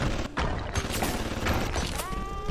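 Rapid turret gunfire in Bioshock, a dense run of sharp bursts and thuds rattling close by for the whole moment, with a rising electronic tone near the end.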